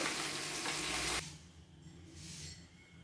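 Dog meat and pennywort stir-frying in a hot pot give a loud, steady sizzle that drops to a quieter crackle partway through, with no voices.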